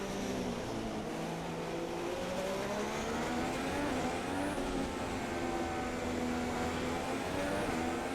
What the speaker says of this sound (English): I'm actually gonna stay in 7th gear, let the engine rev really, really, really high heading into the final chicane